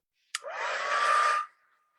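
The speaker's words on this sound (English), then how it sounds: "I'm going to speed it up a bit by using my heat tool" A heat tool blows over a watercolor wash in one short, loud, steady whoosh lasting about a second after a quick click, then cuts off, leaving a faint fading tone.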